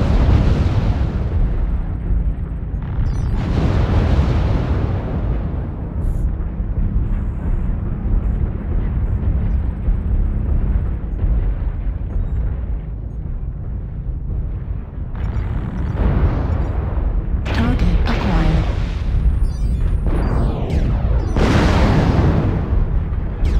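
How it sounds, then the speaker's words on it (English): Incoming missiles strike in the video game MechWarrior Online: heavy, rumbling explosions roll continuously for over twenty seconds, with sharper booming impacts bursting through near the start and again toward the end. "Warning, incoming missile."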